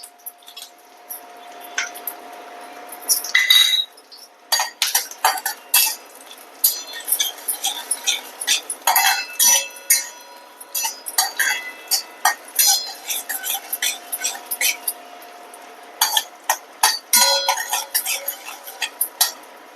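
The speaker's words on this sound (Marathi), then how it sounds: "त्याच्यामध्ये हे टाकायचं, जरा तेलामध्ये तळून घ्यायचं." Wheat modak mixture is stirred and fried in a little ghee in a pan, giving repeated scraping and clinking of a spoon against metal in irregular bursts with a faint sizzle underneath, close and fairly loud, with no talk.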